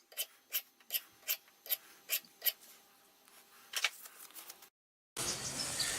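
An axe edge being sharpened with a hand file, about ten evenly spaced rasping strokes followed by lighter, quicker scrapes, close and clear in a quiet space, then a brief silence and a burst of noise.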